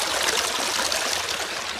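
Water runs steadily right beside the microphone, a close, continuous broadband rush and trickle like a small stream, loud and even throughout with no voices.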